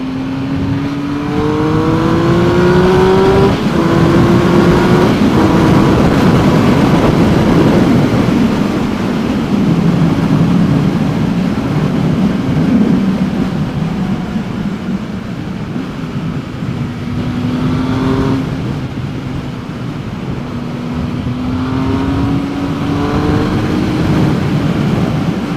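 Triumph Speed Triple R motorcycle engine revving under throttle, loud and close, with repeated rising and falling pitch sweeps over a continuous roar.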